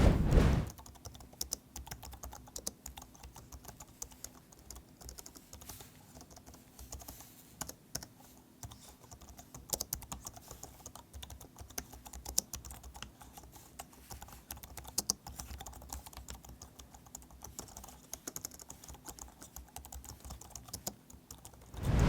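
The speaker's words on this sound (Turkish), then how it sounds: "Tuş demişken gene şimdi bu tuşların seslerine yakından bakalım nasıl bir performans veriyor." Close typing on a MIIIW keyboard, a long dense run of rapid clicky keystrokes with occasional louder presses, steady and uninterrupted with no talking.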